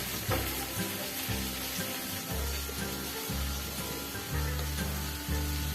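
Peas go into a pressure cooker of hot litti chokha filling, which keeps sizzling and crackling steadily up close, with faint stirring clinks.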